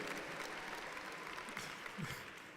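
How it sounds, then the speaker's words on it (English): Graduation audience clapping at a university fall commencement, a steady moderate wash of many hands filling the hall, with a brief murmur of voices underneath. "Start clapping, start clapping."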